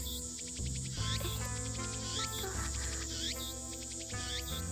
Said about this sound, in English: I'm getting used to the freaking cicadas.